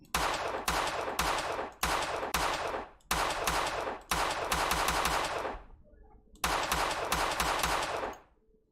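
Rapid automatic gunfire in a Unity first-person shooter game, several loud sustained bursts of rattling shots separated by brief pauses, up close with no voices.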